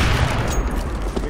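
Gunfire in the CS:GO video game on the Train map, a dense continuous burst of shots over about a second, loud and close, with rumbling low-end impacts throughout.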